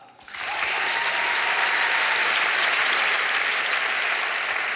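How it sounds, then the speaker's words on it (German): Studio audience on an Austrian TV comedy show breaks into loud, dense applause after a fighter is introduced in the left corner, rising quickly and holding steady for several seconds without talk. "Applaus."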